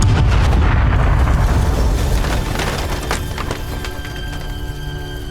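Explosion in the video game Broken Sword 1, a loud booming blast with splintering debris that rings out and gradually decays, leaving a lingering tonal hum.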